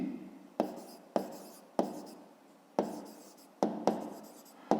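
A pen scratches across paper in a series of short, distinct strokes during a fifth-grade maths exercise, each stroke a crisp scrape fading quickly, close and quiet with no talking.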